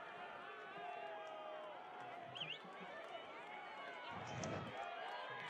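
High school football crowds at an Oxford Hornets versus Kennett Blue Demons game, cheering and swelling steadily in the distance beneath continuous commentary.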